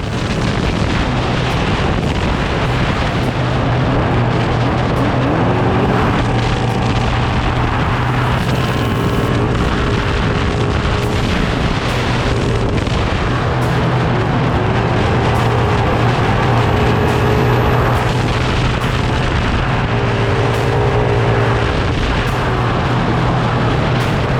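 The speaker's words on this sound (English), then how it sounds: "Truck was running fine" A Baja 500 off-road race truck roars along the desert course, its engine loud and sustained for the whole stretch, with heavy wind buffeting over the top and no talking.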